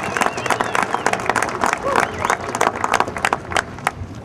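An audience at a speech on jobs and energy breaks into steady applause, dense clapping from a crowd lasting several seconds, close and fairly loud.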